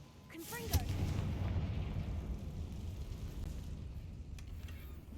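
A Confringo blasting spell in Hogwarts Legacy lands as a deep rumbling explosion that swells and rolls on for several seconds, with a brief bright spell zip at the start and faint later crackles.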